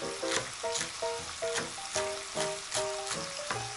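Chicken skin fries in a pan, giving a steady crackling sizzle. Brief tonal clinks and stirring sounds recur at a regular rhythm over it, and no voices are heard.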